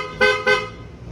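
An aftermarket G-Star motorcycle horn blares two quick, loud honks, rich and brassy, close by, then fades.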